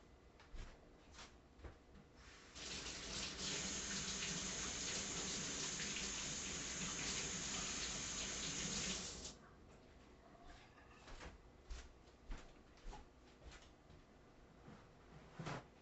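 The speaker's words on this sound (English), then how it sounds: "And I'm going to wash my hands." A kitchen tap runs for about six seconds as hands are washed, a steady splashing rush, with quieter clicks and handling sounds before and after.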